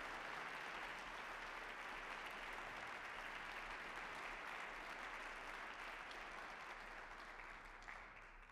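An audience at a Luther College lecture evening in Decorah, Iowa claps in sustained, dense applause that welcomes a speaker, holding loud and steady before easing slightly at the end, with no talking.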